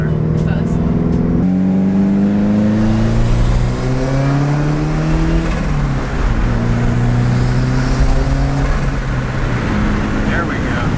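A Subaru WRX fitted with an Invidia aftermarket exhaust, heard from inside the car as a loud, raspy engine note that climbs through rising revs and gear changes, continuous throughout with voices talking over it.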